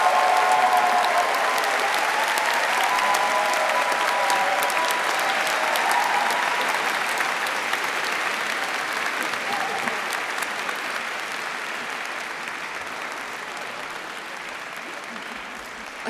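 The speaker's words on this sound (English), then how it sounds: "Please join me in a round of applause to the graduates." Sustained applause from a large graduation ceremony crowd, steady clapping that continues for a long stretch and gradually softens toward the end.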